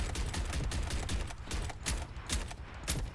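A gun fires rapidly until its magazine runs nearly dry in the video game Deadlock, a quick run of loud, evenly spaced shots over a busy background.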